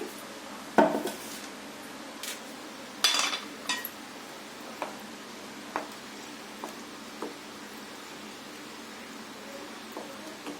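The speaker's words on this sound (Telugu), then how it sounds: "వేయించుకున్న ధనియాల పొడి 1/2 స్పూన్ వేసుకొని కలుపుకోవాలి." A spoon stirs roasted coriander powder into a tamarind gravy for a taro-root curry, giving a few sharp clinks against the pan and then sparse, quieter taps, with no talking.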